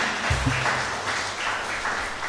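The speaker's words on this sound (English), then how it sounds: "Give applause for all of us." Applause from a lecture audience at the close of a university guest lecture session, a steady mass of clapping filling the whole clip at moderate level with no talk over it.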